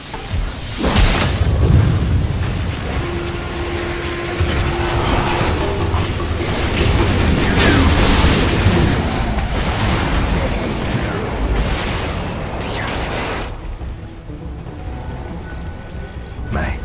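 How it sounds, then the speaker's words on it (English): A Dota 2 tower comes under attack amid a dense, continuous wash of loud booms, blasts and impacts, with game effects layered on top throughout. "Dire's bottom tower is under attack."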